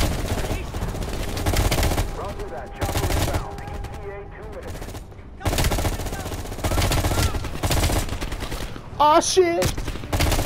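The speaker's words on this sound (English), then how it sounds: "The road right toward the sound of gunfire." Bursts of rapid M16 gunfire in Call of Duty: Black Ops Cold War crackle through most of the stretch, pausing briefly, while someone speaks and curses over the shooting.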